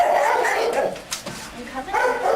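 An active pet dog barks and yips with excited whimpers before going out for a walk, close and lively, mixed with a person's voice talking to it.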